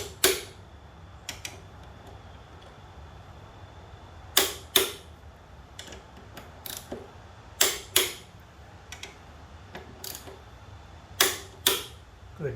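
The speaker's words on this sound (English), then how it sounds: "we'll get on here and torque the caliper bolts" Sharp metallic clicks from a torque wrench with a 12mm socket tightening front brake caliper bolts on a Honda VTX 1300R motorcycle, in scattered single and paired clicks against a quiet room.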